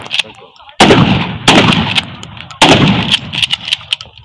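Three loud, close gunshots from a rifle at shooting practice, each a sharp crack with a booming tail, spaced about a second apart, with brief talk and background noise between shots.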